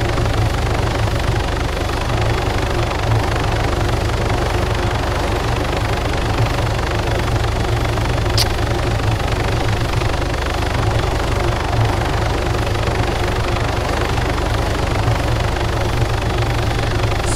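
Helicopter engine in the video game Arma 3, a loud, constant low-pitched turbine and rotor drone with a steady pulsing texture, running unchanged throughout without speech.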